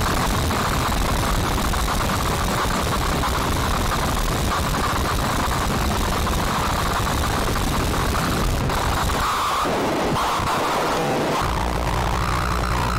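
A harsh, dense wall of noise from a Gen Thalz HNW Machine module with reverb added, washy reverberant tail, steady and loud throughout, thinning briefly near the end before swelling back.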